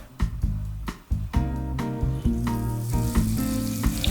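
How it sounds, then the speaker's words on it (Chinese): Breaded, meat-wrapped egg deep-frying in oil over medium-low heat, a steady loud sizzle and crackle with repeated sharp knocks of utensils or pot throughout, no talk. "我们用中小火去炸这个蛋呢"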